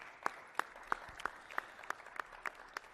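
Applause at a mayor's weekly press conference, heard as a thin run of evenly spaced claps, about three per second, fairly soft and distant in a quiet room, with no one speaking.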